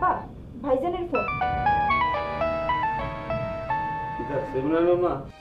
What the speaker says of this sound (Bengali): আব্বা, ভাইজানের ফোন।